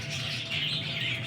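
Qasori breed pigeons of the Dab Waly line call softly at close range, with a steady, breathy cooing and light chirps over a low background rumble.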